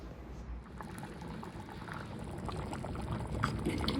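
Tadka tempering poured into a pot of cooking rajma (kidney beans), giving a steady close sizzle and bubbling that holds for several seconds with no talking.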